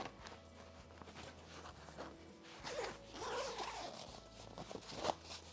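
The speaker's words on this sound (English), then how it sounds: "That's a smooth zipper." A zipper being drawn around a travel crib mattress, a close, smooth zipping rasp that builds and swells in bursts, with small rustles and handling noises before it.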